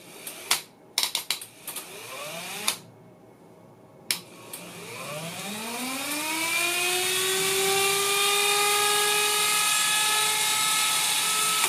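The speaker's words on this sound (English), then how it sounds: "you can hear the brake, and you can see also that the motor stops immediately when the power supply is removed" Motor of a TN-131/APR-9 radar tuner whining as it spins up after a few sharp clicks, its rising harmonic tone holding steady and loud with no talk.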